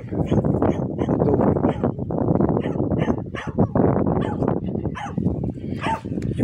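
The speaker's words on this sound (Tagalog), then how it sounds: "Yung pong mga alaga kong aso dito ay nakatali." Several pet dogs tied up on a farm bark, yip and whimper continuously at close range, a dense overlapping chorus that persists throughout with no clear talk.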